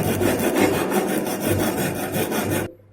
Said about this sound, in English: by using this rasp file, we have to remove this burr area